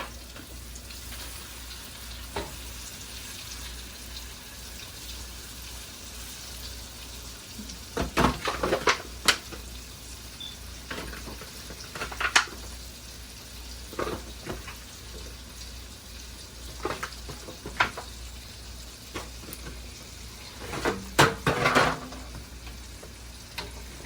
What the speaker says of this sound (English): You gotta let your meat get brown.